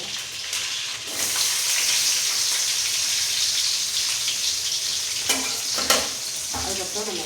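Small shallots and large onions fry in a pan with a steady, close sizzle and crackle, joined by occasional stirring scrapes and a few sharper clinks, with no voices.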